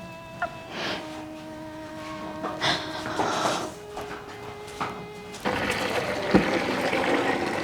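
Water runs from a tap into a container in a Haryanvi home, a hissing flow that starts, pauses and grows steadier and louder toward the end, with clatter and faint voices around it.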